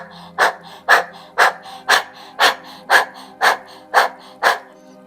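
Rapid, rhythmic panting breaths through the nose during a Kundalini yoga practice, about ten sharp, even exhalations coming roughly twice per second, close and clear against a quiet background.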